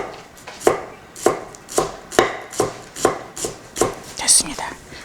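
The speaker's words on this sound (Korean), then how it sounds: "이렇게 대파를 조금만 썰어서 넣겠습니다" A kitchen knife chops green onion (daepa, the white part) on a cutting board for a traditional Korean holiday meal, giving about nine close, crisp, evenly spaced chops with no voices over them.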